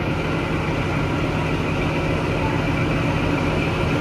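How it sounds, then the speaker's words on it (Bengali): The Kalka–Shimla toy train, the 52459 Him Darshan Express, pulls away from Kalka station with a steady, unbroken low rumble of running gear and engine noise close by. "এই যে আমাদের ট্রেন এখন ছেড়ে দিয়েছে কালকা থেকে শিমলার পথে"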